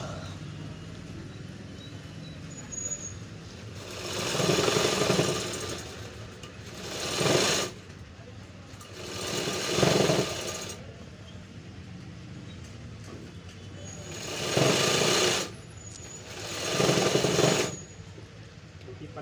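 A sewing machine stitches along the edge of a pant leg in five loud bursts of rapid whirring, each a couple of seconds long, separated by short pauses with a low background hum.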